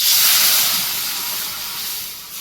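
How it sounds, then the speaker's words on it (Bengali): Boiled matar dal tipped into hot oil with a mustard-seed tempering sizzles in a loud, continuous hiss that eases slightly toward the end. "এখন ডালটা দিয়ে নিচ্ছি সর্ষে ফোড়ন দিয়ে"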